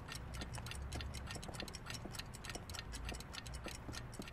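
A clock ticks steadily in the video game Heavy Rain, a regular close tick-tock rhythm over a dense background of rain-like noise, with no talking.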